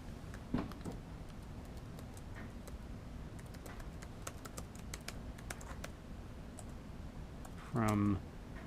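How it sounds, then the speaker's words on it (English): Scattered keystrokes and clicks on a computer keyboard tap out irregularly, close and fairly quiet, with a brief low thump near the end. "And stop hitting keys I don't mean to hit."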